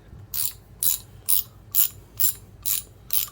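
Seven evenly spaced bursts of a freshly lubricated Stanley Professional 3/8-inch round head ratchet's pawl clicking, each a quick dry rattle, close up and steady in rhythm with quiet gaps between.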